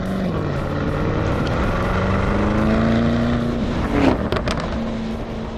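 2023 Lamborghini Urus Performante with a twin-turbo V8, droning loud and close as it drives, pitch climbing slowly and then a brief burst of sharper mechanical noise near the end.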